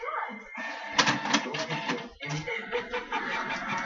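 A Canon Pixma MX410 inkjet printer runs through a print job nearby, a steady mechanical whir with shuttling carriage passes and a brief pause partway through.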